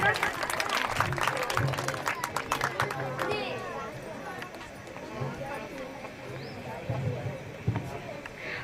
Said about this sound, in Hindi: जोरदार ताली से स्वागत करेंगे मनीषा का।